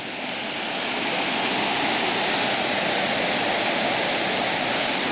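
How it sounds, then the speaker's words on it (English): Broad, steady rush of a waterfall in Tennessee, loud and close, a dense unbroken roar of falling water that swells slightly in the first second and then holds even throughout, with no voices. "We're here in the most dangerous waterfall in Terabithia"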